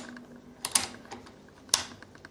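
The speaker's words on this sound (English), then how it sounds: "I'll push the bolt forward and it doesn't want to close and it pops back open" Lee Enfield No.4 Mk2 .303 British rifle bolt pushed forward and springing back open, giving two crisp metallic clacks about a second apart, close and fairly quiet.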